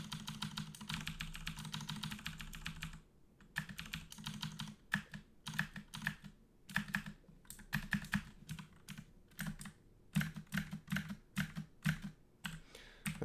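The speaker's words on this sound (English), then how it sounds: "Listen to the beauty of my keyboard here" Keys clatter on a computer keyboard in quick irregular bursts of clicks, heard close and fairly quiet, with a short pause early on and no speech.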